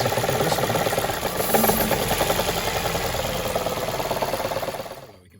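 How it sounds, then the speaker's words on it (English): A car engine idles with one ignition coil unplugged and misfiring, a steady, rough, slightly uneven rumble heard up close, alone, then fading and cutting off near the end. "see how the tone of the engine doesn't change versus if you do this one"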